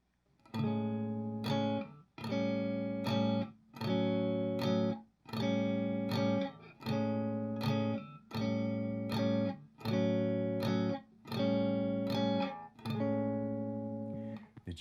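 Three shell chords cycled repeatedly on an electric guitar, each sustained strum ringing for about a second before a brief gap, in an even, clean rhythm with no talking.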